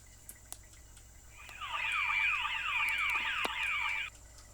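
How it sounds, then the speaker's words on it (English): A loud electronic fire alarm inside a home, set off by an explosion in the United Kingdom, wails in rapid, repeating warbling sweeps, holding steady for a few seconds before cutting off. "The explosion was so big that fire alarms went off from inside people's homes."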